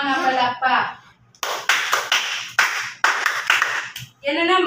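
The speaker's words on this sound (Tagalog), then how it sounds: "Tanan naton lima nga palakpak." A group claps five times in quick, even bursts after a voice speaks, and talking resumes right after.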